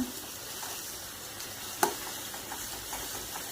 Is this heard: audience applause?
no